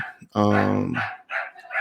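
A dog gives a single loud bark close by, followed by someone speaking over faint background noise.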